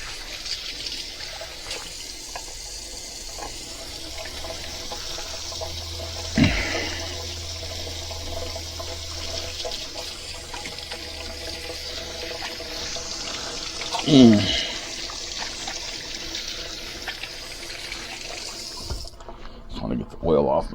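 Tap water runs steadily over hands being rinsed of olive oil after handling pizza dough, a continuous trickle with occasional splashes and clunks, ending abruptly as the faucet is turned off.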